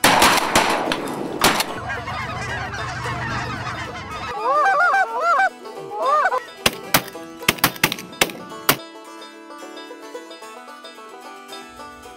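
Geese honk repeatedly during a waterfowl hunt, a chorus of calls followed by several sharp loud shots and thuds, then quieter ambience.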